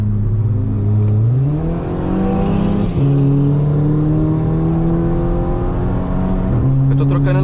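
A tuned Volkswagen Jetta TSI, stage 2 with over 300 horsepower, accelerates hard on a highway, its engine climbing through revs with two gear shifts, loud and close from inside, with people talking under it.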